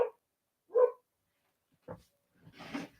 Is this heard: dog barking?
yes